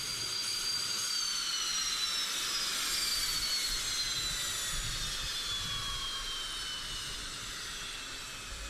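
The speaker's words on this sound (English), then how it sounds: "Current versions of the Su-25 attack aircraft are still in active service in Russia" Su-25 attack aircraft jet engine roaring steadily, a loud whining high-pitched tone that slowly drops in pitch as the jet passes, with broad rushing noise throughout.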